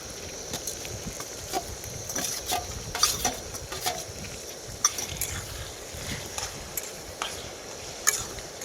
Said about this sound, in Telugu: అయితే ఫ్రై అవుతున్నాయి కదండి, టమాటా వేసుకున్నాం.